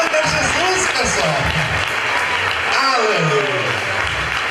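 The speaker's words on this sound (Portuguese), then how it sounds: "Salva de palmas para Jesus, pessoal." A church congregation applauds during a worship service, with a continuous wash of clapping from many people running under loud overlapping voices.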